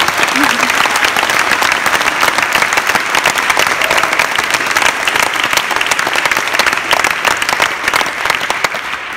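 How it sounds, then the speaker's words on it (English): Loud, sustained applause from an audience at a Birmingham City University Extra Mile Awards event for student nurses, with dense clapping running evenly throughout the clip. "Can we give them all a big round of applause?"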